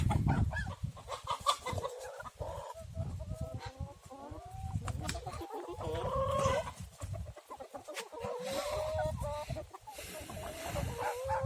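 Several village chickens and roosters cluck and call close by in a busy, overlapping chorus that continues throughout.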